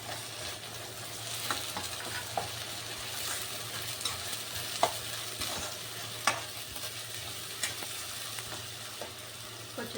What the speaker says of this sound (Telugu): ఆ మసాలా వేసేసుకోవాలి.